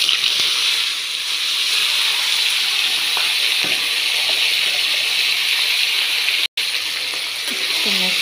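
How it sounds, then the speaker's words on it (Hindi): Chopped jackfruit dropped into hot oil in a kadai gives a loud, steady, close frying hiss and sizzle that carries on throughout, with a brief dropout near the end. "तेल गर्म हो गया है, इसमें डाल देना है ये कटहल।"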